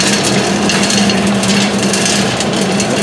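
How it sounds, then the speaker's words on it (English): An Axeman Anderson AA130 anthracite coal boiler blower runs with a slight vibration, a loud, steady, close mechanical whir with an even low hum throughout. "It's running. Bit of vibration in the blower, I think."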